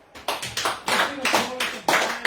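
Congregation applauding in a church, a burst of handclaps swelling in several quick waves with voices mixed into the crowd noise.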